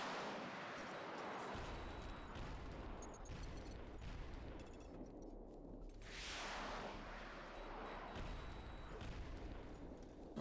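XM-4 Titan rifle fire in the zombie shooter Into The Dead 2, heard as rapid repeated gunshots over a dense, noisy game soundscape with no speech.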